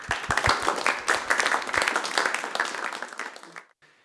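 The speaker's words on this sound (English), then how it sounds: "Let's welcome Peter with a great applause" Crowd at a React Native community meet-up in Kraków claps to welcome a speaker, a lively burst of many distinct hand claps that thins out and stops abruptly, leaving near silence.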